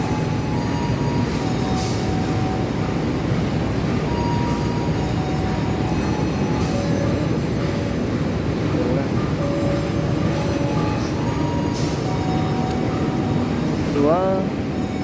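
Steady loud rumble and rattle from inside the KA Senja Menoreh passenger train running toward Jakarta, constant rolling noise throughout with faint metallic squeals near the end.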